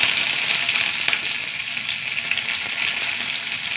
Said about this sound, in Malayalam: കുറച്ച് കടുക് ഇട്ട് കൊടുക്കുക. 2 വറ്റൽമുളക്, കുറച്ച് കറിവേപ്പില,